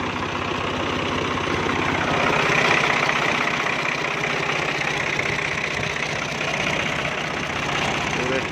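An old Fiat 480 tractor idling: a steady, rough diesel chug with a fast, even knock that runs throughout at close range, and someone talks over it.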